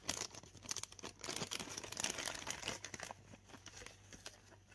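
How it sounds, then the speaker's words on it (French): Packaged hoya plant cuttings being unwrapped by hand, with a steady run of close, light crinkling and crumpling of wrapping and occasional soft tearing, no talking. "Je vais peut-être essayer de vite déballer ça sans les casser."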